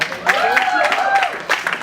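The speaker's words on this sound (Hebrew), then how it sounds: "תנו מלא כפיים לטל." Brief crowd applause greets a competitor at a West Coast swing Jack & Jill dance event, clapping mixed under an announcer's voice, with a sharper flurry of claps near the end.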